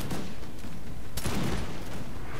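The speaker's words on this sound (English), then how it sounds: "You can see my fusiliers of line already getting some shots off." A musket volley from line fusiliers in the video game Napoleon: Total War, France against Britain: a dense crackling fusillade of overlapping shots, with one sharper burst midway, over constant battle din.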